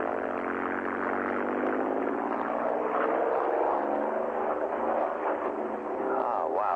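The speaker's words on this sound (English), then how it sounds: "that is some airplane" P-51 World War II fighter plane flying overhead, its propeller engine a steady, loud droning roar with a shifting pitch as it passes, heard alone.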